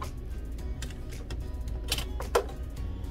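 Domestic sewing machine stitching along a line on a zippered pocket, a soft rapid mechanical chatter at close range, fairly even with a brief louder knock near the end.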